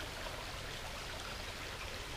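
Water flows steadily at the end of a river near waterfalls in Batangas, a constant broadband rushing and trickling that stays even, close and fairly quiet.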